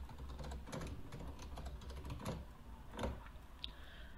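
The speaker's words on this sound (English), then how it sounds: "let us check whether the keyboard is working." Fingers tap out a quick, irregular run of keystrokes on a computer keyboard before it is disassembled, close and moderately quiet, with a few heavier key strikes standing out.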